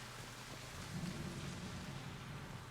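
Steady rain and a low rumble of thunder from the Mass Effect Legendary Edition video game, heard quietly and continuously with no talking.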